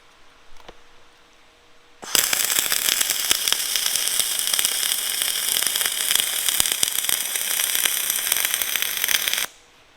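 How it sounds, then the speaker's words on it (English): Arc welding on the tailgate of a dump trailer, a dense, steady crackling sizzle that starts abruptly after a quiet moment and runs unbroken for about seven seconds before cutting off. "Weld this side."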